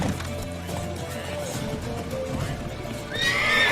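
Horses in The Witcher 3 game neigh loudly and gallop at close range, hooves pounding under dense battle sounds and shouted voices, with a sharp whinny rising near the end.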